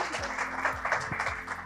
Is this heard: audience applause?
yes